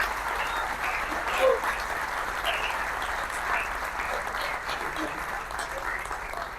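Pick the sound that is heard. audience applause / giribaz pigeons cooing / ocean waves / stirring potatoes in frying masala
audience applause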